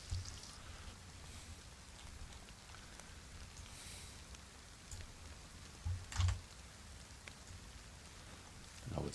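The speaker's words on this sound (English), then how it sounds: "Now it's raining" Soft steady rain falling in the survival game DayZ on Deer Isle, a faint continuous patter with a few louder thumps and clicks scattered through it.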